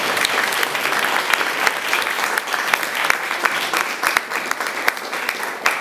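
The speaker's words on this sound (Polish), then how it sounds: "Wielkie brawa dla niej." A crowd applauds steadily at an outdoor Independence Day centenary celebration in a Polish village, with dense, continuous clapping and a few sharper individual claps standing out.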